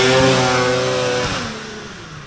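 Vintage Polaris XLT 600 triple snowmobile engine revs loudly and close by, a steady two-stroke roar whose pitch climbs and then eases slightly as it pulls away, with no voices.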